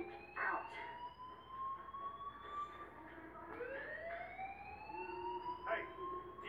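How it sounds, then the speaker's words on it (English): A fire alarm wails in the video game Life is Strange, a rising siren-like tone that repeats several times at moderate volume, partly under background noise and speech. "Hey, do you hear that fire alarm?"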